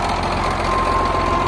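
A 1964 International Farmall 460 diesel tractor with a freshly rebuilt starter idles at a hay pasture, a close, steady low rumble with an even, slightly knocking pulse throughout.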